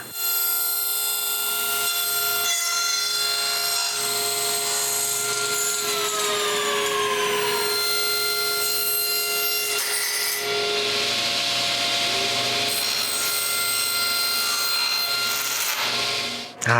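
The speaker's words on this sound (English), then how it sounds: "I align the saw blade on the line and push the stop block up to the aluminum" A saw cuts aluminum pieces of a zebra window blind against a stop block, a continuous close rasping and grinding with a ringing metallic whine that runs unbroken for the whole stretch.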